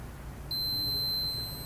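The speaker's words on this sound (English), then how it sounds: "you see I got my beep. Means I got continuity between these 2" A multimeter continuity tester gives a single sustained beep, high-pitched and steady, starting suddenly and holding for over a second over a quiet background.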